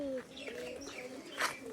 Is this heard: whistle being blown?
no